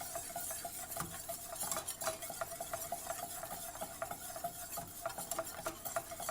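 Eggs whisked quickly in a bowl before being added to a cheese sauce for a soufflé, a fast steady tapping and scraping of a utensil against the bowl, close and fairly quiet with a faint ringing tone.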